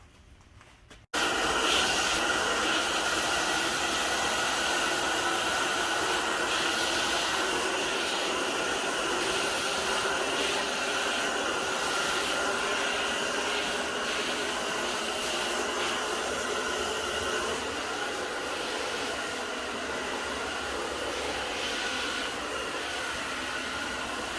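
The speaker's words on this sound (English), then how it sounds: "it's important for Riley when he's blowing her up to keep the hairdryer moving at a consistent speed." A hair dryer blows steadily while grooming a dairy calf's coat before clipping, switching on abruptly and then holding a constant loud whooshing hiss for the rest of the time.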